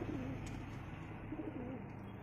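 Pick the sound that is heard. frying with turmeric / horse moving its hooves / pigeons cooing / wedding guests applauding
pigeons cooing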